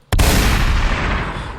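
A single loud gunshot sound effect cracks sharply after a brief silence, then rolls into a long, booming, reverberant tail that fades slowly.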